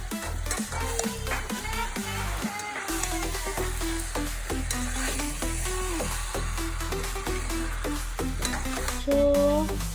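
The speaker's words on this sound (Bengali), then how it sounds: "এই যে পেঁয়াজ দেওয়া হয়ে গেছে, পেঁয়াজ ভাজা হচ্ছে।" Onions frying in a pot over a wood fire at a family picnic, with scraping stir strokes and sizzle under a busy mix of sustained tones and clatter.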